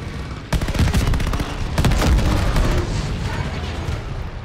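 Heavy gunfire rattles in a Call of Duty: Vanguard battle at Midway, with loud overlapping bursts and sharp cracks that open abruptly and keep going over a rumbling background of booms.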